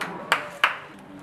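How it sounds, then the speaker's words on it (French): Two sharp hand claps spaced about a third of a second apart in a pastry demonstration kitchen after puff pastry work, close and distinct over quiet room tone. "Ça mérite des applaudissements."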